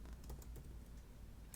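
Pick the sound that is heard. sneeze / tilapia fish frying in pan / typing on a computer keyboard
typing on a computer keyboard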